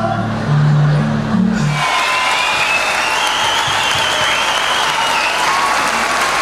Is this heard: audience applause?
yes